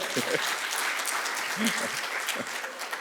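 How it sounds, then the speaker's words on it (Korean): Audience at an industry forum keynote lecture applauding: a steady, fairly quiet wash of many hands clapping, with faint voices underneath. "이 대목에서 박수 좀 치셔야죠"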